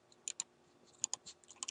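Several quick keystrokes tapped on a computer keyboard, faint and close, in two short bursts of clicks.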